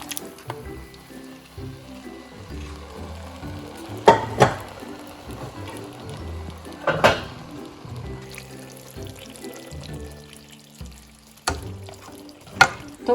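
Biryani gravy is poured over rice, giving soft wet squishes and splats with a few sharper drops, close and fairly quiet, against a low background hum.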